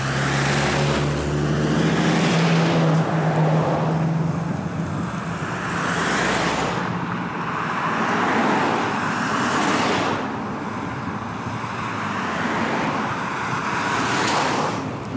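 Road traffic rushes past on a tight roadside corner, several vehicles swelling loud and close one after another, with a continuous broadband roar between passes and no talking.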